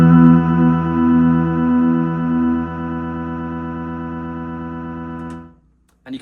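Guitar notes ring out through the reverb effect of a Blackstar IDX multi-effects floor pedal, a pulsing sustained chord that fades away into a long tail before cutting off, with no talking.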